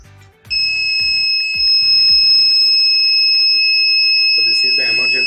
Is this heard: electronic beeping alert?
yes